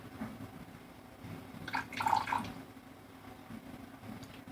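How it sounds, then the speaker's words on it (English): Melted borax solution being poured into a 2-cup measuring cup, a soft trickle and splash swelling briefly in the middle and then fading, quiet and close with no speech. "I'm going to pour a quarter of a cup of that in this."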